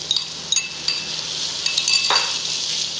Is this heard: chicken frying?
yes